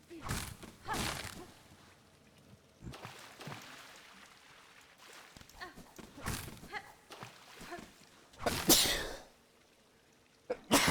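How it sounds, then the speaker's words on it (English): A person sneezes once, sharp and loud, near the end of a stretch of quiet breathy sounds and low murmurs. "I sneezed it everywhere."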